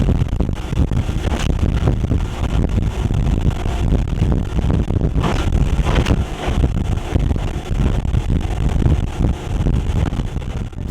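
A boat pounding through rough water on the way to Whitehaven Beach in Australia, with loud continuous wind buffeting and rumbling engine and hull noise, surging and easing in waves.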